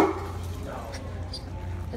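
A dog, passed off as a service dog, barks briefly in a public place. The barks are short and close, mixed with people talking nearby.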